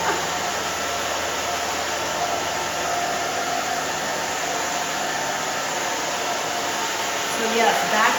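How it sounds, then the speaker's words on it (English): A hair dryer styling hair after a haircut runs steadily with a loud, continuous airy whoosh, its pitch and airflow shifting slightly as it moves back and forth near the end. "So blow dryer, you can see I'm moving that."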